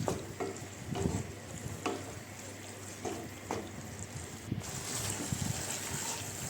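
Pasta simmering with sauce in a pan on a gas stove, steady bubbling sizzle with repeated scraping stirs and clatters of a spoon, close and fairly quiet.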